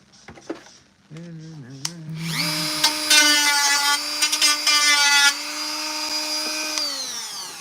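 Electric power tool whining as it spins up and runs steadily while sanding plastic clone trooper armor, a loud close high-pitched tone that holds for several seconds, with a voice talking briefly before it starts.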